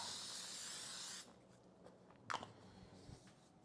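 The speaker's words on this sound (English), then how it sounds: "I'm just gonna spray it" A steady hiss of cooking spray onto a baking pan sounds for about a second, then stops, followed by faint clicks and a light clatter nearby.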